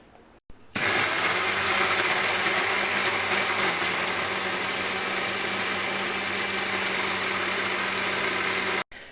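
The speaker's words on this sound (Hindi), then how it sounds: "इन सब चीज़ों का टमाटर, लहसुन, प्याज और अदरक और सब्ज़ मिर्च का हम एक पेस्ट बना लेंगे, ब्लेंड कर लेंगे इसको" A kitchen blender whirs steadily as it purées tomato, garlic, onion, ginger and green chili into a paste, starting abruptly and running loud and even for several seconds before cutting off.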